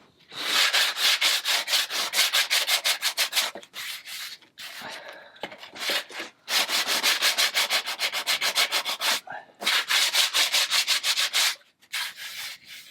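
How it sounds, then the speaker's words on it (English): Sandpaper rubbed by hand over a wooden scale model of a 2.4mR sailboat hull, loud and close, in long bursts of quick back-and-forth strokes separated by brief pauses. "I'm just going to, quickly sort of dub this off with some sandpaper just to ferret out"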